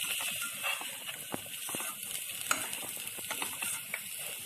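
Rice balls being stirred with masala in a frying pan for mani kozhukattai, a steady sizzle with repeated scraping strokes close by, no voices.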